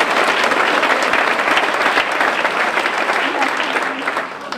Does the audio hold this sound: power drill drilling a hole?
no